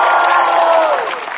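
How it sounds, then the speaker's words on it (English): An audience gives applause and cheering for the author Ruskin Bond, a loud, dense wash of clapping and voices that fades slightly toward the end of the brief burst. "Give a big round of applause for him."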